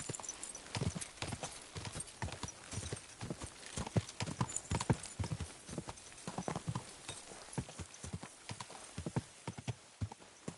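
A horse in Kingdom Come: Deliverance II trots along, its hooves clip-clopping in a steady, brisk rhythm close by for several seconds, with faint ambient noise behind.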